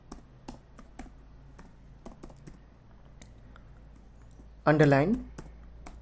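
Scattered keystrokes on a computer keyboard while writing CSS code, tapped at an uneven pace. A person speaks briefly near the end.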